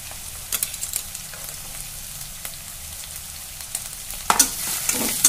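Sliced onions and coriander fry in an oil-filled pan for a mushroom gravy, a steady close sizzle with scattered scraping stirs that swells into louder, brighter crackling toward the end.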